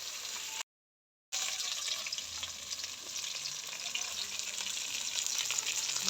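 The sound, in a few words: katla fish frying in oil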